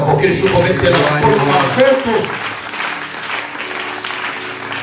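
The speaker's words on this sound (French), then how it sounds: "Est-ce que tu peux encore acclamer?" An audience at a French-language motivational talk claps and cheers loudly, the applause strongest in the first couple of seconds and then tapering into a softer, continuing patter.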